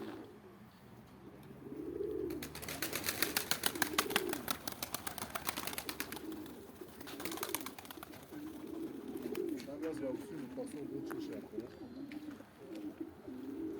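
Pigeons cooing in a loft, repeated soft low coos through the whole stretch, joined midway by a rapid rattling flutter of wings, nearby and moderate in level.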